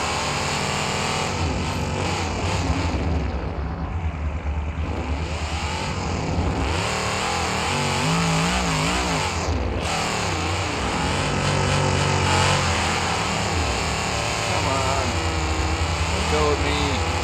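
A car engine in the BeamNG.drive video game revs hard and continuously, rising and falling in pitch through a long, dense, loud stretch.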